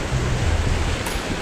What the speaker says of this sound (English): Now, this one is a real waterfall.